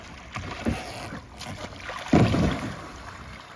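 Kayak capsizing and rolling in open water in Norway, with close, muffled splashes and water rushing around the hull in two heavier surges against light wind noise.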